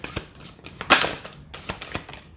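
Tarot cards drop out of the deck onto a table in a few light, dry taps and slaps, with one sharper clack near the middle, close and fairly quiet, with no talking.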